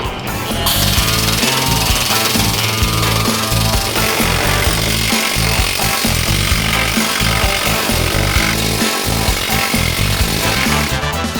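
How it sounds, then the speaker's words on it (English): A planishing hammer with a high dome dolly pounds sheet metal for a motorcycle front fender in a rapid, continuous mechanical rattle, loud and steady throughout with no pauses. "So I've got a high dome dolly in my planishing hammer."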